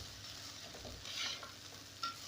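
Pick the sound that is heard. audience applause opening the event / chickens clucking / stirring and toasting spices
stirring and toasting spices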